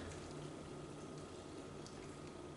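Apple cider vinegar poured into a raw vegan mango red pepper dressing, a steady continuous liquid wash running at an even level for a few seconds with no talk.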